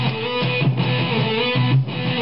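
A second electric guitar with full distortion plays a rock riff from a song. Thick, buzzing chords repeat in a steady, chugging pattern with short pauses between phrases, played alone and up close.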